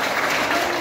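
A short burst of dense clapping from an audience at a school function, even and fairly loud for under a second.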